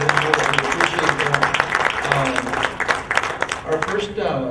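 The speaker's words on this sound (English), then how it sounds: "Can we give him another round of applause?" An audience claps through the whole stretch of a lecture on Mexican civilization, producing dense, even applause with a voice talking faintly underneath.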